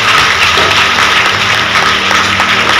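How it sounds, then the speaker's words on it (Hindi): Schoolchildren at a school welcome function clap together, a loud continuous burst of applause close by and filling the space without any talking. "बच्चे जोरदार तालियां बजाएं।"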